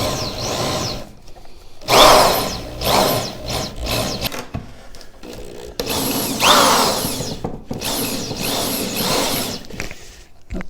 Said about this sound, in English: we take our hole saw, run it over the bolt.